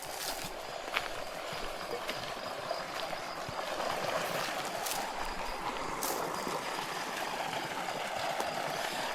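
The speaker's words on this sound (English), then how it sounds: "There's definitely water flowing, huh?" Water flows steadily near a pump house outdoors, a soft continuous rush with a few scattered clicks and footstep-like taps mixed in, no one speaking.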